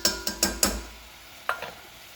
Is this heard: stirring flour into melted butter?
yes